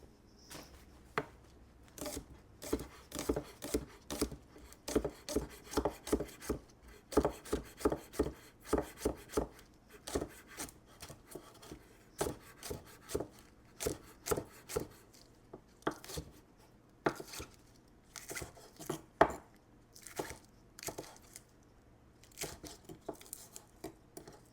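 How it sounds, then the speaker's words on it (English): A knife chops thinly sliced green onions on a board, with quiet, crisp, rapid taps coming in irregular bursts and short pauses, close and alone with no talk. "Then I need 2 green onions, thinly sliced."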